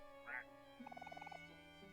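A drum in the video game Omori gives a short honking, quack-like burst followed by a quick run of about a dozen pulsing warbly notes, fairly close and clear over a quiet background.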